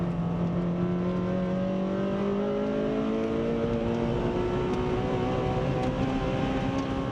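Honda Civic Type R FD2R at speed on a race track, its engine a steady, loud high-revving drone that climbs gradually in pitch through a gear, with wind and road roar throughout and no talk.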